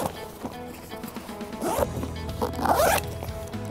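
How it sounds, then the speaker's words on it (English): A Coast Guard immersion suit zipper is run up and down, giving close, raspy zipping strokes that swell to a louder pass near the end, with no talking over it. "Cycle the zipper."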